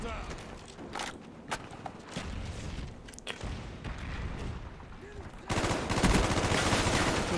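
Gunfire in Call of Duty Black Ops, scattered sharp shots and bursts at moderate volume, then a denser loud stretch of continuous firing near the end, with a player talking throughout.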